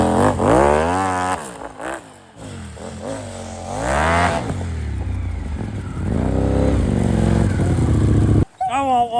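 Ducati V4 engine on a 2024 snow bike revving hard while ridden, rising and falling in loud repeated bursts, close and dominant, with a brief cut near the end.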